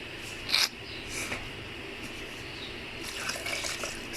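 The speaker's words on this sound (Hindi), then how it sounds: "सादे 3 गिलास जो हैं पानी वाले वो इसमें डालेंगे।" Water is poured into a pressure cooker while a pumpkin and lentil curry is being cooked at home, a faint trickling and splashing running under room noise with a couple of brief louder clinks.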